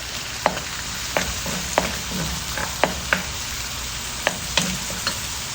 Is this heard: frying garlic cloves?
yes